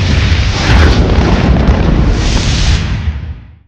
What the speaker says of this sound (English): Bomb!